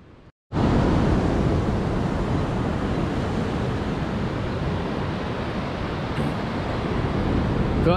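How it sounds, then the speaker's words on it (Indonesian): Waves and wind on Soge Beach in Pacitan, East Java, in the late afternoon: a loud, continuous broadband roar of surf and gusts that fills the whole stretch after a brief quiet start. "Keindahan Pantai Soge di sore hari"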